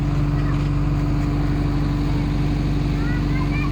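A motorcycle or tricycle engine idles steadily up close, a constant low, loud rumble with a buzzing hum filling the whole stretch, with no pauses.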